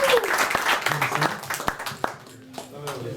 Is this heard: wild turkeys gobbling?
no